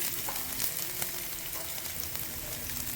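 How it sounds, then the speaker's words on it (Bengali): Chopped garlic hits an overheated pan and fries with a loud, continuous crackling sizzle that stays dense and even throughout. "এখন এর মধ্যে দিয়ে দেব রসুন কুচি"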